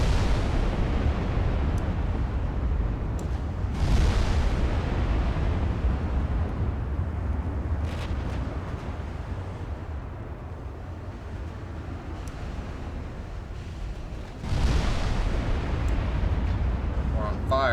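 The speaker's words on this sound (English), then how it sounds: "Start firing at that battleship over there." Warship guns firing at an enemy battleship in Ultimate Admiral Dreadnoughts, a dense rumbling bed of naval gunfire with two heavier booming salvos, while someone talks over it.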